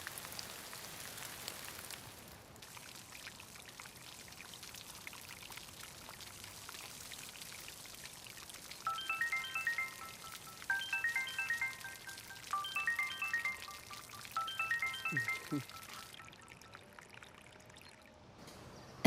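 Water poured onto potted plants, a steady soft trickle and splash running throughout, with a phone ringtone chiming in repeated bursts partway through.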